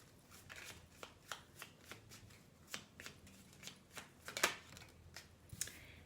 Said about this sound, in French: je vais quand même tirer d'autres cartes parce que je ressens quelque chose